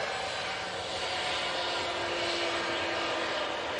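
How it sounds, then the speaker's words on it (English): A TUI airliner in plain livery taxiing at Manchester Airport, its jet engines giving a steady, continuous roar with a faint tonal whine at moderate distance and no talking over it. "the TUI in the plain Jane livery is now on the taxi coming down Uniform 1 in order to take the slot it's been given"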